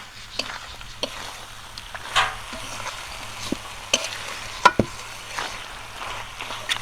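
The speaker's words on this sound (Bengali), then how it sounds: "কষানো মশলার মধ্যে মাংসটা দিয়ে দিয়েছি, মাংসটাও কিছুক্ষণ কষিয়ে নেব।" Mutton sautéing in a pan of fried spice masala for curry, with a low steady sizzle broken by sharp scrapes and knocks of a spatula stirring the meat at close range.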